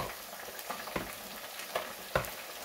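Chicken frying in a pan gives a steady, quiet sizzle with scattered crackles and pops, heard close up with no voices.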